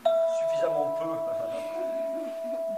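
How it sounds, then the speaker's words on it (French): A tubular bell with thin iron tongues held loosely is struck once, giving a bright sustained ringing tone that slowly fades, with a voice murmuring faintly underneath. "C'est une cloche tubulaire."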